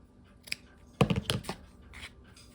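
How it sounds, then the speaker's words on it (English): Scissors cut through a bubble mailer right beside its sewn seam in a few quick, crisp snips and crunches, close up with no talking. "I'm going to cut right next to the sewing."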